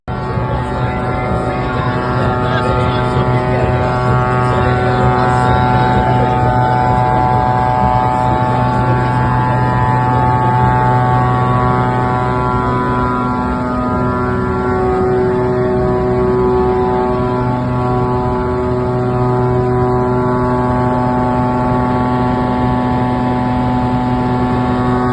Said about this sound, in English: he had to evacuate, very embarrassingly, by helicopter